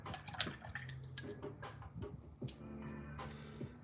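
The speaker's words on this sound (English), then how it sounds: "what I'm gonna do next is I'm gonna rinse my brush" A watercolor paint brush swished and rinsed in a container of water, giving soft dripping and sloshing splashes in a few close bursts with no voices.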